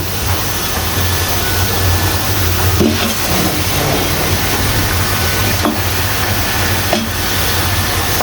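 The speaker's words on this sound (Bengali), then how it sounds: "এখন আমি মাছের মাথাগুলো দিয়ে দিব।" Katla fish heads go into a pan of cooked-down spice paste, a loud, dense, continuous sizzle and frying roar with a few faint knocks, no talking.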